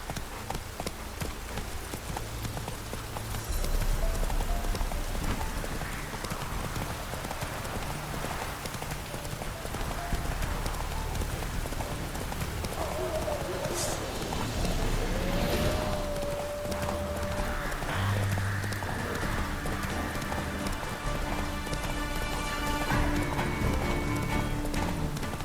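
Roach, a horse in The Witcher 3: Wild Hunt on PS5, gallops with steady, close clip-clop hoofbeats that run throughout, joined by occasional game sounds and tonal effects.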